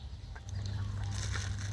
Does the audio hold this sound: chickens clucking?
yes